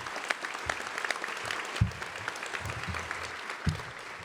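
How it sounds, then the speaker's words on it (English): An audience at a police awards ceremony applauds in a steady round of clapping indoors, with a few louder thumps scattered through, moderately close and without speech. "so a big round of applause for them"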